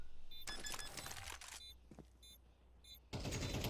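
A spray of automatic gunfire in the Counter-Strike video game during a tournament match, two dense bursts with a quieter gap of footsteps and clicks between them.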